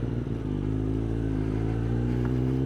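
A Kawasaki ZX10R sport motorcycle engine in sport mode runs loud and close, a steady rough, throbbing drone with a slight build in pitch, no talk over it.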